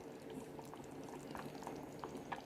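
Dried anchovy fish curry simmering in a pot, a steady low bubbling hiss with scattered soft pops and gurgles running throughout, moderately close and unaccompanied by any voice.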